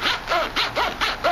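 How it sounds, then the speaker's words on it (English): A YKK zipper on a Maxpedition Fatty organizer is pulled back and forth in quick, rhythmic rasping strokes, five or six in all, close up and crisp, with no talking. "especially even when the bag is full, the zippers just travel really nice"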